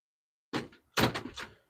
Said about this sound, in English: The door is locked.